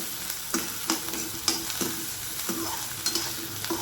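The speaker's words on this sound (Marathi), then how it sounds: "तर आपण याच्यात कांदा घालून घेणार आहोत. त्या 2 मिनिटासाठी हे छान आपल्याला असं कांदा लाल होईपर्यंत परतून घ्यायचा आहे." Chopped onion sizzles as it is sautéed in a pan for a traditional coconut vegetable dish, with a steady frying hiss broken by repeated scraping strokes of a spoon stirring it.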